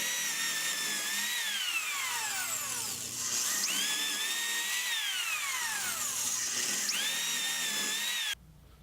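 A power drill bores holes in a clamped wooden harvest basket piece set on a backer board, its whine rising and falling in pitch as each hole is cut, steady and close with no voices.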